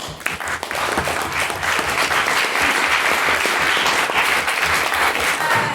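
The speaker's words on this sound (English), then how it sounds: "could we, for his fantastic maiden speech, give him another round of applause" Applause at a debate night after a maiden speech on raising children with religion, the crowd clapping loudly and continuously after a quick start, with a faint cheer or voice briefly near the end.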